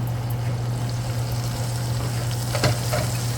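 Onions sauté in a pan for beef and broccoli, giving a steady, close sizzle with a low constant hum beneath and one brief clink near the end.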